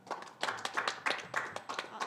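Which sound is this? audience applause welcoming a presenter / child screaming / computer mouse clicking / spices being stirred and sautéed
audience applause welcoming a presenter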